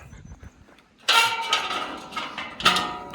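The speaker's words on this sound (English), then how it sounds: "Let's get this gate open." A farm gate on a forest walk is pushed open with a sudden creaking, clattering metallic rattle that starts loud and then tails off. A second, sharper rattle comes near the end. No one speaks.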